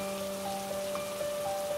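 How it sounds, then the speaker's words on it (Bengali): Rain begins to fall in an animated cartoon scene, a soft, steady hiss of drops with faint tonal hums beneath, even and fairly quiet throughout. "এ কি, বৃষ্টি শুরু হলো যে?"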